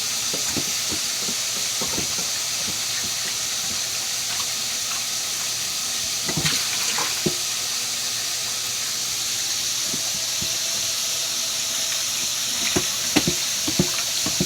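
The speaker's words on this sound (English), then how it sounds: "Start getting things rinsed out, including my fingers." Tap water runs steadily over mixing bowls and fingers while cleaning up after dry-breading cod for frying. It makes a continuous close hiss with scattered light clinks and knocks from the bowls.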